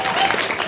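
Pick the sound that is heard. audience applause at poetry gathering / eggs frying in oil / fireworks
audience applause at poetry gathering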